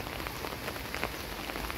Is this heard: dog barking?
no